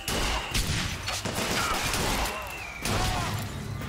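Volley gun fire in Bioshock Infinite: a few sharp explosive bursts with crashing impacts amid game action noise, moderately loud.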